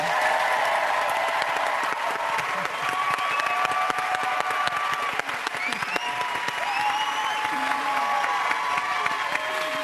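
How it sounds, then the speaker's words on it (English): A live audience applauds steadily for about ten seconds, a thick, continuous roar of clapping with some cheering and whistles woven through it and a few voices underneath. "That's some good applause."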